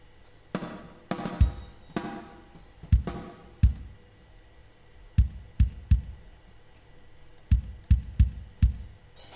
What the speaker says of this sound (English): I'm also going to add a little reverb here to the kick drum